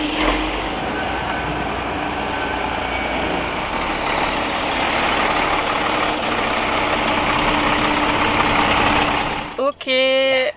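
Converted truck's engine droning steadily while driving, a loud continuous low rumble with road noise, ending with a brief squeaky sound and a cut near the end.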